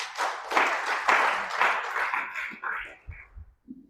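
A church congregation clapping hands in praise, a burst of brisk, close clapping that swells and then tapers off within a few seconds into silence.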